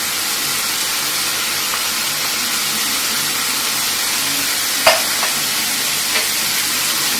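Aloo curry spices sautéing in a pan, a loud, steady broadband sizzle with a couple of brief clinks of a utensil.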